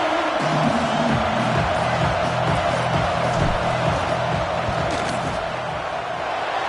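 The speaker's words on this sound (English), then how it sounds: "This crowd trying to do its part to get inside the kicker's head." A packed college football stadium crowd roars steadily throughout, a dense continuous wash of cheering and shouting from all around, aimed at unsettling a kicker lining up a field goal.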